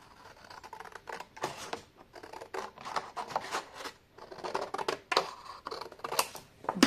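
Paper is cut with scissors in a series of close, crisp snips that come in irregular bursts, some quick and some spaced apart, with no voices.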